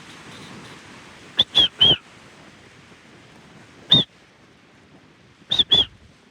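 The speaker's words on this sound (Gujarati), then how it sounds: "સિસોટી ઘણી મારી બોલો" Sharp, loud whistles from a fisherman out at sea, given in short bursts: a quick group of three, a single blast, then a pair, with quiet wind and water noise between.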